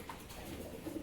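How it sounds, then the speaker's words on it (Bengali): A pair of high-flying green-necked pigeons give soft, low cooing, faint and close, rising a little toward the end, with no voices. "এখানে কিন্তু এক জোড়া কবুতর দেখতে পাচ্ছেন, হাই ফ্লাইং, সবুজ গলা"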